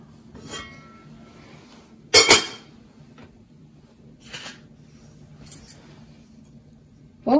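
Steamed aval kozhukattai dumplings lifted off an idli plate after cooking, heard as a few sparse metallic clinks and scrapes, one loud clatter in the middle and a final clink at the end, close up over a low hum.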